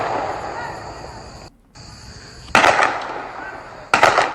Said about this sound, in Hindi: तो गोलियों की आवाज आप सुन पा रहे होंगे।